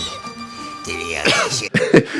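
A short, throaty cough or two near the end, close and fairly loud, following a quieter stretch of low background murmur.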